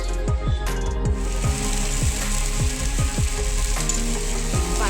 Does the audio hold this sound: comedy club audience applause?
no